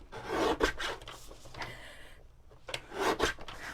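Cardstock being trimmed down to a smaller card panel on a paper trimmer, giving several short scraping, rasping strokes in two bursts with a quieter gap between, close and clear with no talking.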